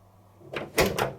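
Door lock on a Bendix (Eudora) 7159 washing machine releasing, heard as a soft mechanical shuffle followed by two sharp, close clicks or clunks in quick succession, with no voices.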